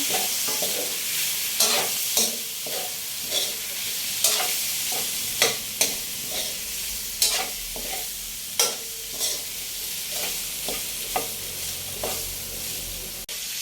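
Pork and vegetables with oyster sauce are stirred in a sizzling pan, a utensil scraping and clacking at a steady, repeated rhythm over a constant frying hiss, with no voices.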